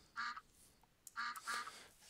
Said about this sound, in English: So now I got a cat that should quack.